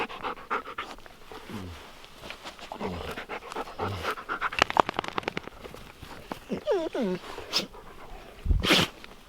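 Dogs panting close by in rapid, rhythmic breaths, with sniffs, paw shuffles and someone speaking softly over them.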